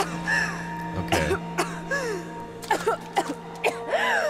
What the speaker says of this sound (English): Coughing up water.